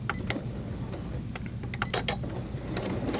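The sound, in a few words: Janome 12000 sewing machine starting to stitch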